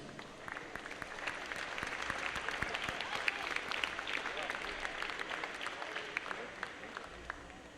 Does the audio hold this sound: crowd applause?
yes